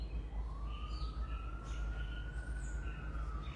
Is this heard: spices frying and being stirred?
no